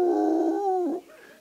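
A person imitates a beagle's howling bark, a single drawn-out, wavering howl that bends downward and fades, heard alone and fairly close.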